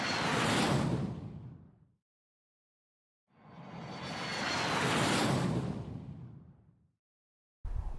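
An Air Tractor firefighting airplane of the Brasília fire brigade makes two loud passes, each swelling and fading over a couple of seconds with a roaring whoosh, separated by silence, and a third pass starts abruptly at the end.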